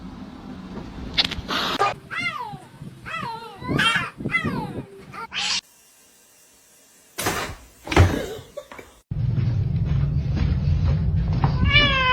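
A cat meows several times with harmonic, rising calls, mixed with nearby voices, a sharp door-like knock and a steady hum in the last few seconds.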